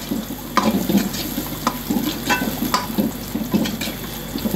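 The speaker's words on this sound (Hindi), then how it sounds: "ये गार्लिक का और इनका तड़का लगेगा" Cumin and garlic tempering frying in hot oil for a thin Indian soup, a steady close sizzle with stirring scrapes and a few sharp clinks throughout.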